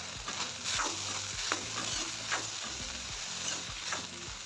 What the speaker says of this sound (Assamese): পিচি থোৱা জালুক আৰু জিৰাৰ গুড়াখিনি মই ইয়াত দি দিম এতিয়া ভালকৈ অকণমান লৰাই ভাজি লওঁ